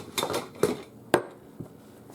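A spatula lifted from among dishes and utensils in a home kitchen while serving enchiladas, a few separate close clinks and clatters of metal and crockery, the sharpest near the middle, with quiet gaps between.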